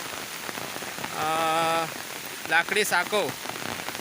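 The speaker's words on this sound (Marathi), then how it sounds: "पाऊस खूप पडतोय बघा, तुम्ही पाहू शकता. आज फार जोराचा पाऊस आहे" Heavy rain pours down steadily near a wooden footbridge over a stream in the Konkan region, a dense constant hiss, with someone speaking briefly over it and a sustained tonal hum in the middle.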